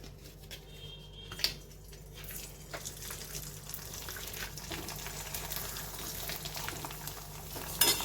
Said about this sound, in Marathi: आता हे आपण पापड तळून बघूया